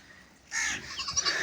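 Goats on a small farm where does have recently given birth to kids bleat loudly and close by, a sudden burst of wavering cries after a quiet start, with several overlapping calls continuing.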